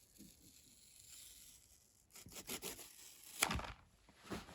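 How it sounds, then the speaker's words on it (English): Protective plastic film being peeled off a new Pico 4 VR headset, giving soft rubbing and crinkling, then a closer run of tearing, rasping strokes and one sharp rip near the end, with no talking. "I'm just gonna peel back more plastic"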